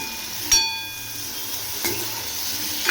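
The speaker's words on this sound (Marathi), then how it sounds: "अगोदर दोडका तेलात चांगला भाजून घेते" Ridge gourd fries in hot oil with a steady close sizzle, broken by a few sharp stirring clatters against the pan.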